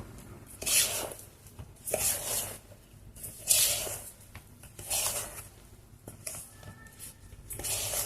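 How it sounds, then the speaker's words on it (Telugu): Sorghum flour gets mixed into idli batter by hand in a bowl, a soft, quiet series of wet swishing strokes in an uneven rhythm, close by. "ఒకసారి జొన్న పిండినంతా బాగా కలిపేసుకున్నాము"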